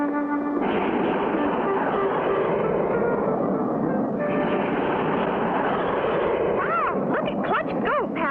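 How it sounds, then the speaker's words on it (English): Animated jet plane racing in an air race, a loud continuous roar with shifting whine tones running throughout, with voices briefly chattering near the end. "Did you ever see such a fast jet plane, Mr. Hiram?"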